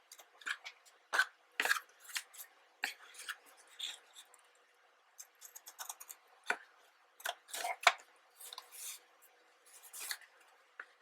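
Scissors snip through cardboard to make a box for giant playing cards, with sharp, close cuts in irregular bursts separated by quiet pauses and faint paper rustling.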